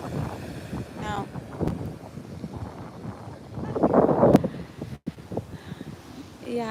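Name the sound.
strong wind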